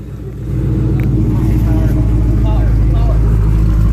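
A 2017 Dodge Challenger Scat Pack engine rumbles loud and close once driving begins, holding a steady, deep drone with a faint voice underneath.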